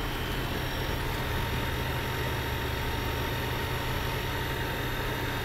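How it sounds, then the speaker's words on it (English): A car engine idles steadily and continuously at close range, a constant low rumble with broadband hum and no voices. "Even the car engine is running,"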